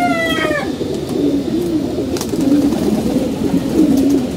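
Pigeons in a rooftop loft, some sick with a cold, coo steadily in low, rolling murmurs close by, joined briefly by a few high chirps at the start and a constant dull background hum.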